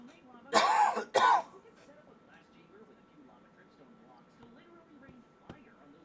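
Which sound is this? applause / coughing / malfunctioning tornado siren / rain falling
coughing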